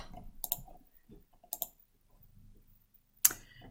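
Answers typed on a computer keyboard, faint scattered key clicks in small bursts with quiet gaps between them.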